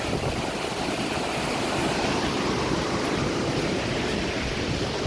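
Rushing water of a waterfall heard from very close, near enough for spray to soak the listener: a dense, steady broadband roar with no breaks, loud and continuous throughout.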